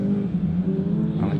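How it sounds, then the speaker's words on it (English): A Honda Civic rallycross car in a club rallycross championship round drives past with a steady, loud engine drone that holds for the whole moment without a clear rise or fall. "So through comes the Honda Civic."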